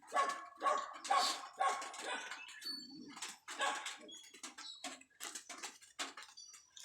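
An angry dog barks repeatedly in sharp bursts on a rural farm, close and loud, with a few gaps between volleys and no talking.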